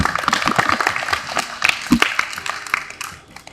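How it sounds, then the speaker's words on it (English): Applause at a youth town hall, a crowd clapping with sharp, irregular hand claps that stay loud, with some voices mixed in. "we want you to give yourselves a round of applause"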